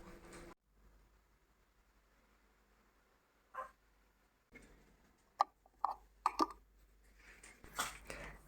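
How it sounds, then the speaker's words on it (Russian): A pet dog stomps and grunts in a quiet home during a Sunday breakfast: faint, scattered thumps and short snorts, some louder toward the end, with no one talking. "А также стопоты и хрюканье моей любимой собаки."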